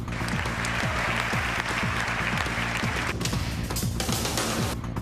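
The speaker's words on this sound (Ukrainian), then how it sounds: "Його промову в конгресі більше як 10 разів переривали оплесками." Members of the US Congress applaud during Petro Poroshenko's speech, a dense, even wall of clapping that carries steadily through the whole stretch without letting up.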